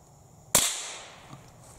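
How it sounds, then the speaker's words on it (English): A single sharp gunshot cracks out while hunting squirrels in Iowa, loud and close after a quiet outdoor lull, with a short decaying echo trailing behind. "Aim right the head with the body and shoot."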